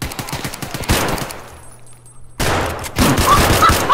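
Gunfire from a shotgun in the shooter game Escape from Tarkov, arriving as loud, close bursts of overlapping blasts, separated by a brief quiet gap before a final heavier flurry.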